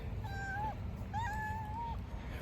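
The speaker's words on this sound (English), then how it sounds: "This cat." A cat meows twice up close in a garage, a short rising call followed by a longer drawn-out one, over a low steady background hum.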